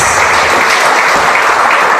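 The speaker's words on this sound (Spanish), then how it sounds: "le parece si le damos otro aplauso al Señor" Congregation applauding together in a church service, a steady, dense wash of clapping that fills the space evenly with no voices over it.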